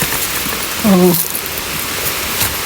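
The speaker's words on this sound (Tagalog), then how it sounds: "Batian ko na ang raga sang tubig." Nadsadjan Falls sends a constant, broadband rush of water, loud and close, while a person briefly exclaims partway through.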